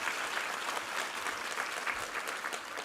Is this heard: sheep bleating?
no